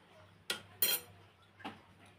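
A metal spoon clinking against a dish while preparing a fish chop with egg, three sharp, bright clinks spaced irregularly over about two seconds, close and fairly quiet against a low background hum.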